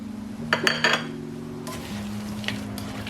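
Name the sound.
tomatoes added and cooked in karahi pan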